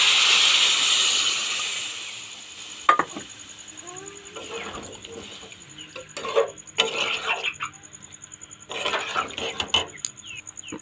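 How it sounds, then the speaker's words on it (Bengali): Water hits a hot pan of fried cumin powder for a pangas fish curry with brinjal and potato. A hiss bursts up, then utensils clatter and scrape in bursts as it settles, with no voices. "এবার আমি সামান্য পরিমাণে জল দিয়ে দেব।"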